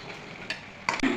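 A spoon stirs turmeric, salt, cumin and coriander powder into moong dal in a pan, giving brief scraping strokes with a soft sizzle underneath, close and fairly clear.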